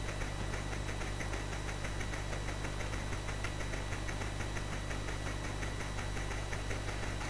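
A steam locomotive in the C64 game The Train idles with its throttle fully closed, giving a constant low mechanical chug and rattling hum that runs evenly throughout without any voices.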